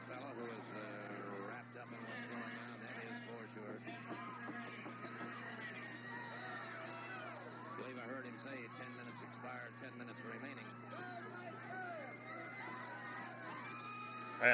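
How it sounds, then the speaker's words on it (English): Wrestling crowd at a Florida Heavyweight Title match between Mike Graham and Al Perez, a steady far-off roar of cheers and shouts sustained throughout, with a commentator talking over it. "Crowd trying to encourage Mike Graham on, get him fired up to respond back to the perpetual chin lock of Al Perez"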